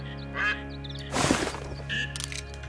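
Ducks quack close to a water blind during a duck hunt, with a few short bursts of calls spread across the moment and a louder, busier flurry in the middle.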